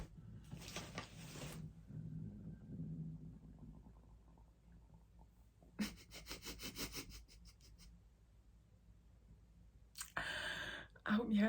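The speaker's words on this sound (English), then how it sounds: "that was my stomach rumbling" A gurgling stomach rumble in a quiet indoor room, heard at close range in several low, drawn-out bursts with short scratchy noises in between.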